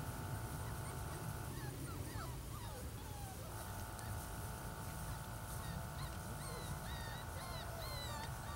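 Belgian Malinois puppies whimper and yip in short, high, scattered cries, set against a steady outdoor background hum on a warm day in the grass.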